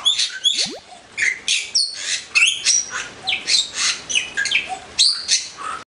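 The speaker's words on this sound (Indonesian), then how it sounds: "Burung jalak Bali yang memiliki nama latin Lecopsa rothschildi merupakan satwa endemis dari Bali" A Bali myna gives a rapid run of loud squawks, chirps and sharp whistles, close by and nearly continuous, with no voices.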